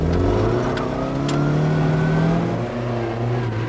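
A rally car slithers along a muddy farm track at Parkhouse Farm, its mid-pitched engine revving loud and close, pitch climbing and dipping through the run with no voices over it.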